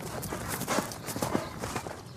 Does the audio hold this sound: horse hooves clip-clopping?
yes